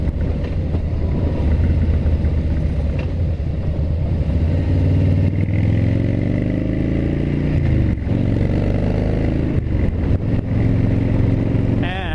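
A motorcycle engine drones steadily while riding on a country road, loud and close, with pitch rising and falling as the rider shifts and accelerates, over constant wind rush.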